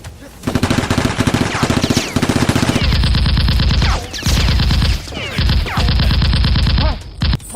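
Nerf blasters firing in a Nerf battle, rapid continuous bursts of shots running for several seconds with brief pauses, loud and close.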